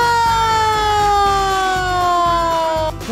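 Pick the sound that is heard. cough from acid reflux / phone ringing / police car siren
police car siren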